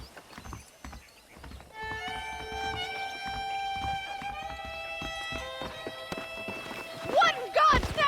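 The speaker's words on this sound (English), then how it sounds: "The horses are saddled up over here." In Red Dead Redemption, horse hooves clip-clop in a brisk rhythm alongside music and a sustained tonal chord, with a whinny and a louder burst near the end.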